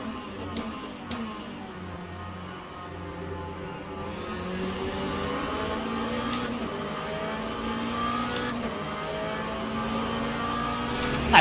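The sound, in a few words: Hypercars passing side by side in Le Mans Ultimate video game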